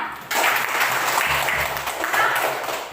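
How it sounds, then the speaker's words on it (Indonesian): A classroom of students claps for a classmate during a math lesson, a brisk burst of many hands that starts abruptly and holds at a moderate, even level. "Tepuk tangan untuk dia"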